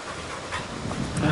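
A hunting dog pants in quick, rapid breaths during a small-game hunt, close by and moderately loud, over a low outdoor background.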